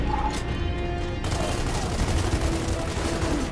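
Dense, continuous gunfire from Gears of War 2 fills the scene, a loud sustained barrage of overlapping shots and rumbling game ambience with no clear pauses.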